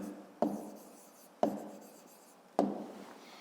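Three separate pen strokes scratch across paper at an even pace while a math answer is written out by hand, each scrape close and clear against a quiet background.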